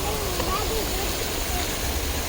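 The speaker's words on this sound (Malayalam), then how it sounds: "വെള്ളത്തിന്റെ ശബ്ദം കേൾക്കാൻ തന്നെ നല്ല രസം." Water flows and spills over at Moses Lake in Quranic Park, Dubai, at night, a steady broadband rush with faint voices underneath.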